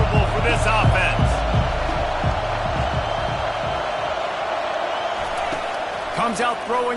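A football stadium crowd roars steadily and loudly at a game, a constant wash of cheering with slams and thuds on top while a commentator talks over it.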